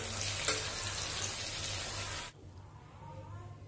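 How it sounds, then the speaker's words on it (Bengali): Masala spices frying in a pan give a loud, steady sizzle that stops abruptly after about two seconds, leaving a faint low hiss. "যতক্ষণে মশলা ভাজা হচ্ছে"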